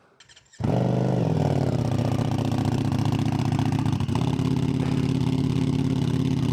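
A 2025 Ducati Streetfighter V4 motorcycle cold-starts with its exhaust baffles in: brief starter cranking, then the engine catches with a loud close roar and settles into a steady, deep, rapid-pulsing high idle.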